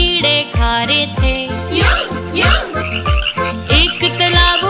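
Frogs croak in a Haryanvi children's nursery rhyme about small colourful frogs sitting on a log, the croaks repeating in a steady bouncy rhythm over loud, cheerful sung music.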